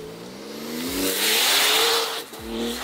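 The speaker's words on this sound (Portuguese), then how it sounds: "Porsche 911 Turbo S." A Porsche 911 Turbo S with a 3.7-litre engine revs hard and accelerates, its loud engine note climbing through gears with quick shift drops, close and alone without talk.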